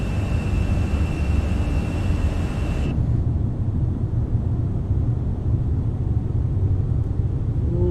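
An airliner in a flight simulator game gives a steady, loud low rumble as it departs, with a thin whine that cuts off partway through and no talking.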